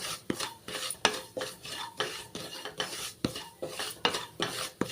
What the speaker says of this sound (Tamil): அந்த நெய்யில் வந்து ஃபஸ்ட்டு வந்து ரவையை வந்து வறுத்துக்கலாம்